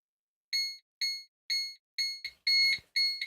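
Timer alarm beeping in a steady rhythm, about seven loud, bright electronic beeps, each lasting a quarter second, at half-second intervals. A short clatter overlaps the later beeps.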